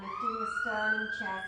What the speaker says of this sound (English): So I do apologise about the siren.